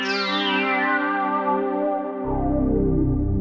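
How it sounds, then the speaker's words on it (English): Lush sawtooth pad from a Softube Model 80 synthesizer, sustained chord of rich stacked harmonics with chorus-like shimmer, a deep bass layer swelling in about two-thirds through, loud and steady with no talk. "Saw pad. Very cool sound."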